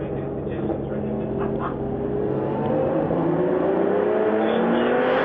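A field of vintage Porsche race cars, led by a pair of Porsche 934s, sweeps down toward turn 11 with a loud, sustained roar of engines that builds steadily as several cars close in together.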